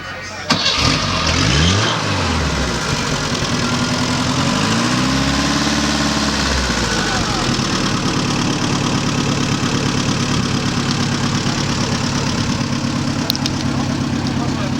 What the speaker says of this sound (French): Regardons maintenant comment ça sonne quand on fait partir la manette.